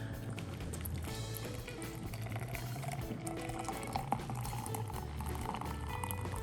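A frothy cocktail is poured into a Collins glass, giving a steady, continuous splashing, bubbling liquid sound at moderate volume close by. The sound holds for several seconds with no talk.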